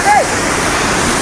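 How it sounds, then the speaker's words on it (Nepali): Snowmelt water pours out from under the snow near the New Dhaulagiri base camp as a loud, steady rush that fills the whole short clip. A brief whistle-like tone comes at the start. "यहाँ चाहिँ हिउँ मुनिबाट चाहिँ पानी निस्किएको रहेछ"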